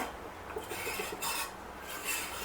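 Milk boiling in a pot for homemade mango ice cream is stirred steadily, giving a continuous soft scraping and rasping close up, with a faint bubbling underneath and no voices.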